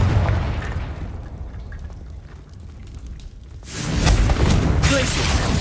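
A Confringo fire spell in Hogwarts Legacy bursts into a loud, rumbling explosion partway through, following a stretch of quieter game ambience and a muttered spell incantation.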